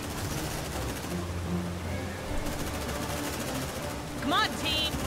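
Gunfire from squad weapons in the video game Aliens: Dark Descent, a dense rattling burst layered in a busy battle mix with voices talking over it and brief electronic beeps near the end.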